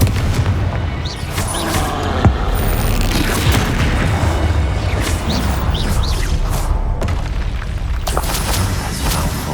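Confringo and Expelliarmus spell blasts in the Hogwarts Legacy video game, a dense run of booming explosions and whooshing bursts over a continuous loud battle rumble, with chiming magical accents.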